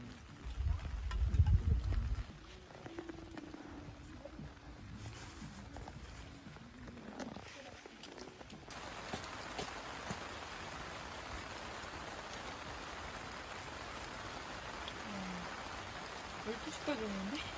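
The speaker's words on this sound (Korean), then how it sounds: "아, 빗소리 진짜 좋다." Rain falls at a campsite near Namyangju outside Seoul, a soft steady patter that grows denser partway through, with a brief low thump at the start and no talk over it.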